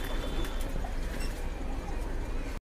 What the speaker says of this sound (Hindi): ये सामने आपके देखे कबूतर कितने चाव से खाते हुए सारा का सारा दाना